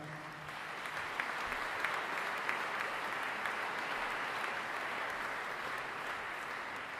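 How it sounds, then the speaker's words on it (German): At a European Jewish choir festival gala concert, an audience gives continuous, even applause that sounds soft and somewhat distant, with a few sharper claps rising above the wash. "ich bitte Sie doch für ein paar besondere Menschen hier um einen gesonderten Applaus"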